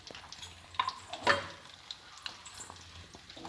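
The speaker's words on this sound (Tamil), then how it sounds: "நெல்லிக்காய் போட்டு இதை நல்லா வதக்கணும்." Cut gooseberry pieces sauté in refined oil with a soft, faint sizzle punctuated by a few sharper clinks and stirring taps, close by, with no voices.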